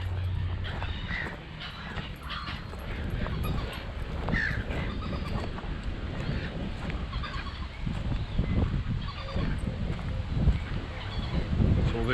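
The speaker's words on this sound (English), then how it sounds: "It's all these seagulls making the noise." Many seagulls call and squawk around a park by an island roost near Sanquhar, a dense, continuous chorus of overlapping cries mixed with outdoor wind noise.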